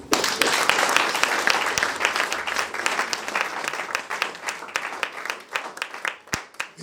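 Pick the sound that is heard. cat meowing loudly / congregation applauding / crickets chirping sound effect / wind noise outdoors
congregation applauding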